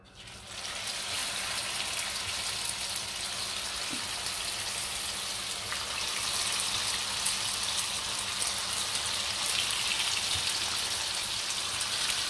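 Brick pastries filled with minced meat frying in very hot oil, a steady, dense crackling sizzle that holds evenly from start to finish, close and alone with no voices.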